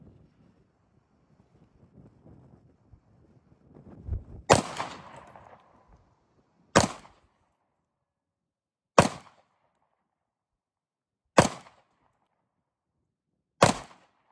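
Five loud, sharp pistol shots from a CZ P10C Ported ring out at a range, evenly spaced about two seconds apart, each with a brief echo, after a stretch of light wind and handling noise.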